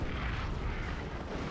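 A lascannon shot from the Dawn of War 2 video game, a deep booming blast with a rumbling low roar that holds steady for its short length, loud and close.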